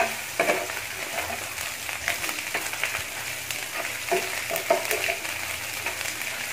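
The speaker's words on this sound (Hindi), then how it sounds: "ये लहसुन और अदरक को मैं इसमें फ्राई कर लूँगी प्याज के अंदर।" Garlic and ginger fry with onion, sizzling steadily in a hot pan, with occasional stirring scrapes, close and continuous with no talking.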